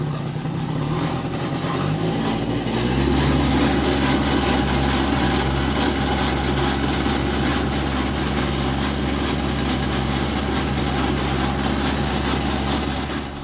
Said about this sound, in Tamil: வண்டியோட சவுண்டு கேட்டிருப்பீங்க.